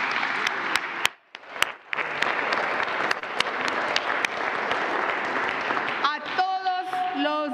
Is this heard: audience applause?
yes